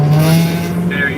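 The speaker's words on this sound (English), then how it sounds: "that little Honda trying to make the light" A small Honda car with a loud, small aftermarket exhaust accelerates past toward a traffic light, a steady droning engine note that rises slightly as it goes by, close and loud.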